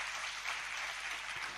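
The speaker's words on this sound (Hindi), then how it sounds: "ये क्यों दिखाने के लिए आप तालियां बजाते हो?" Soft, distant applause from an audience at a Jain religious sermon at Chandragiri, a brief, even patter of clapping heard at low volume in a large space.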